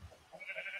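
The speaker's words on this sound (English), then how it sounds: "Hello, sheep." A sheep bleats in the video game Minecraft, a short, soft, slightly wavering cry heard on its own with no talk.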